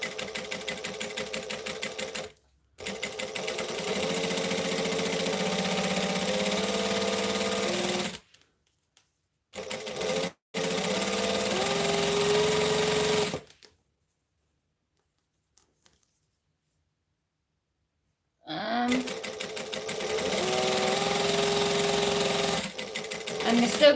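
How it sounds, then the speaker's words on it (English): A sewing machine stitching polyester binding runs in several steady, fairly loud bursts of rapid needle clatter, separated by short pauses and a longer silence. "Now you won't see the end, but I'm still just going to sew it because it's easier."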